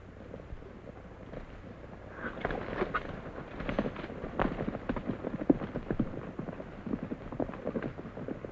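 Horses' hooves clip-clop in a steady, uneven rhythm at moderate distance, a continuous run of hoofbeats over a low background.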